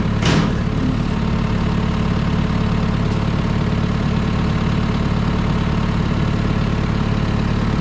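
A farm tractor's engine idles steadily and loudly nearby, a constant low, droning rumble with a brief knock at the start and no voices.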